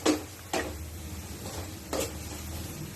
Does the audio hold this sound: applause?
no